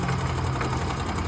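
A Yamaha Ray ZR scooter engine revving briefly, a close, rough buzzing drone with a rapid mechanical rattle, steady in level throughout.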